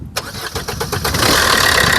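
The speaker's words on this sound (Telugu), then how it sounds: "సింగిల్ సెల్ఫ్లో కార్ స్టార్ట్ అవుతుందండి" A 2014 Maruti Suzuki Swift VDI diesel engine cranks with a rapid series of starter pulses, then catches and settles into a steady, close idle.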